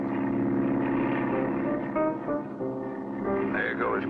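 A propeller airplane in a 1960 Alaskan bush-pilot cartoon drones steadily and loudly throughout, a continuous engine hum with slight shifts in pitch near the end.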